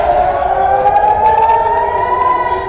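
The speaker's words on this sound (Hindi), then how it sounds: "बहरीन में सायरन की आवाजें सुनाई दे रही हैं।" A loud wailing air raid siren in Bahrain rises and falls slowly in pitch, sustained without pause, with a faint hum of other noise beneath it.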